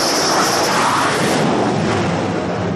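A fighter jet on the French aircraft carrier Charles de Gaulle roars as it comes in to land after a long flight, a loud, steady, broadband engine blast that stays close and dominant throughout.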